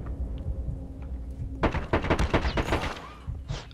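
Rapid bursts of automatic gunfire from COD Mobile erupt partway through after a quieter stretch of game ambience, with dense, irregular shots continuing to the end.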